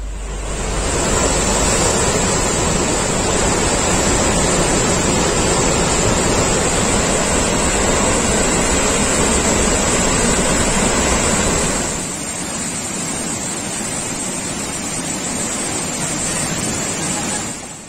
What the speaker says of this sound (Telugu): అటు జూరాల ప్రాజెక్టు 42 గేట్లు ఎత్తి వరద నీటిని దిగువకు వదులుతున్నారు అధికారులు.